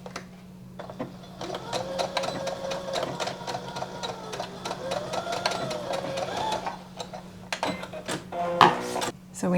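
A domestic sewing machine stitches fabric tape right sides together in a steady, continuous whirring run, close up, with a few clicks and a short mechanical clatter near the end.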